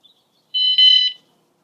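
A motorhome security alarm gives a single short, loud electronic arming beep, slightly pulsing, alone in otherwise quiet surroundings.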